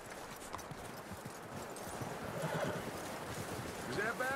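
Horse hooves clip-clop steadily in the Red Dead Redemption 2 video game, with a whinny and some talking over the continuous rhythmic steps.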